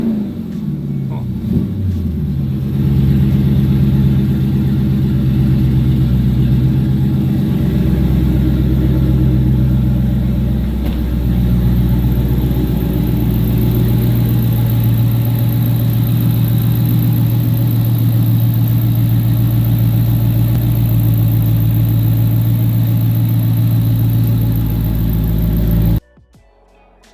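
A Scat Pack car engine rumbles loud and close in a shop, with a brief rev early on before settling into a long, steady idle that cuts off abruptly at the end.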